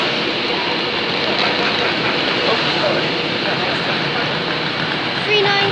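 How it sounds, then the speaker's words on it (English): Virgin class 390 Pendolino electric train pulling into Crewe station on the West Coast Main Line, a loud, steady rumble and rolling hiss close by, with a person talking over it. "Okay, coming in now. There's a Virgin train 390 Pennsylvania to London Euston."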